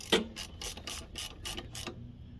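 Ratchet clicks in quick bursts as Pittsburgh hand tools snug bolts on a 1984 Honda 200M, about six short ratcheting strokes close up with a faint background hum and no talking.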